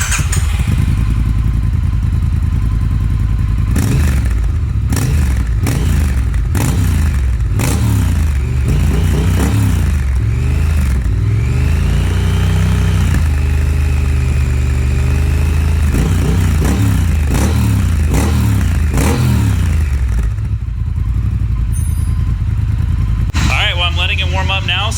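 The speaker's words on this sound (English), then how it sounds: "I'll pop it back on the stand so we can hear the difference between the exhausts." A Triumph Thruxton R with an X-pipe cat-delete exhaust sits on its stand, loud and close, idling and repeatedly blipping its throttle in sharp revs between steadier stretches, with a voice heard now and then.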